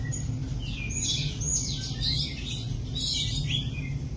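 An emerald starling chirps in bright, warbling bursts over a steady low background hum, the calls coming in two clusters.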